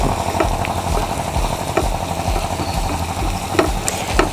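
Onion and ginger frying in a pan for egg cutlets, a steady loud sizzle with occasional scraping stirs and clinks, alongside a low rumbling hum throughout and no talk.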